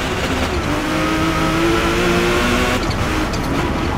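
Racing car engine in Forza Motorsport roars loud and continuous, revving with shifting pitch under steady acceleration, briefly easing near the end.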